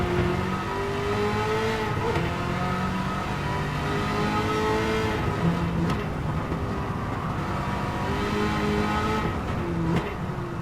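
A Chevrolet Camaro ZL1 in Gran Turismo 7, on sports tires with traction control off, revs and drones steadily with shifting pitch through corners, its engine loud and continuous without pause.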